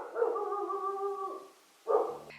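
Dogs howl together in a long, wavering, drawn-out note, fade briefly, then let out a sharp burst of barking and yipping near the end, close and fairly loud with no talking.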